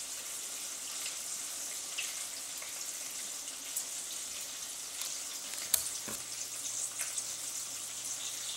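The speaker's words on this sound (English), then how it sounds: "we've got some bacon here, and this is in preparation for next week's video" Bacon fries in a pan with a soft, steady crackling sizzle and a few faint clinks, quiet and close, without talk.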